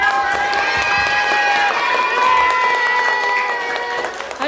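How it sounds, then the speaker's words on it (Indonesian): Elementary school children clapping together during an anti-drug awareness session, bright steady applause with shouting voices and cheering mixed in throughout. "Oke, tepuk tangan dulu."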